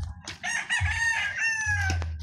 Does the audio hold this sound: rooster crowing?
yes